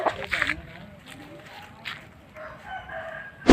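Six-month-old chickens at a rural Filipino home, with a rooster crowing at the start and again at the end, some clucking and footsteps between, all under nearby conversation.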